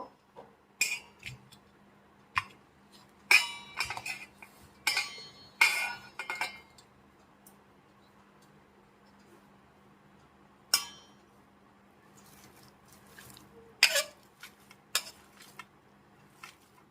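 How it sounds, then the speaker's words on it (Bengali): Boiled raw jackfruit and potato are mashed in a metal bowl, giving sparse close clinks and knocks of utensil on metal, irregular and separated by quiet gaps. "প্রথমেই আমি একটা ডেচকি বাটির মধ্যে সিদ্ধ করা এঁচোড় আর আলুটাকে দিয়ে ম্যাশ করে নেব।"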